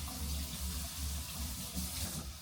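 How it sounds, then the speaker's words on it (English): Tap water runs steadily into a kitchen sink as hands are washed during chicken salad preparation, a close, continuous hiss and splash with slight shifts in flow and no voices. "I'm going to wash my hands"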